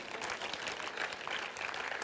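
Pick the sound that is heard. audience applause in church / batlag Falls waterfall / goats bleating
audience applause in church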